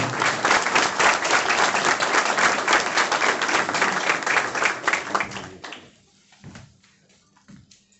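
Loud audience applause for several seconds that fades out, followed by a few faint knocks and quiet room noise.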